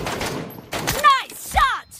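Gunfire in the BGMI battle game comes as a few sharp shots in quick succession, close and loud, with a voice speaking over the action.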